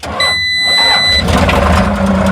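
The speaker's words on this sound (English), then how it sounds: "Hopefully the skid steer starts." A skid steer loader engine cranks with a starter whine, then catches and settles into a loud, steady rumbling idle, heard up close with no talking.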